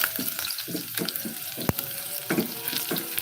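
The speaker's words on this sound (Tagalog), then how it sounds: "nag-isa-gisa na tayo ng bawang" Garlic sautés in a pan for a sardine breakfast dish. A close, crackling sizzle runs throughout, broken by quick stirring scrapes and a sharp metallic clink of a utensil against the pan.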